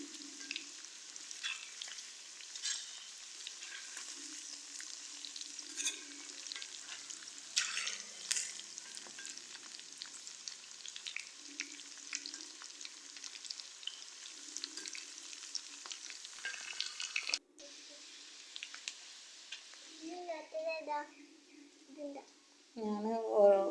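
Chicken for chicken chilli fries in a pan with a steady, soft sizzle and occasional stirring scrapes, quiet and continuous, before a brief break and a few louder clatters near the end.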